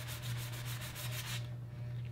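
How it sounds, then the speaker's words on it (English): A small sanding block scuffs back and forth along the painted edges of a wooden chest of drawers in quick rhythmic rubbing strokes, close but soft, ending after about a second and a half over a low steady hum. "take one of these little block, sanding blocks, and you're just going to kind of like scuff up the edges"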